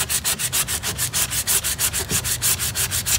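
P100 grit sandpaper rubs by hand across a chalk-painted wooden table, in quick, even back-and-forth strokes, about seven per second, close and loud, with no voices.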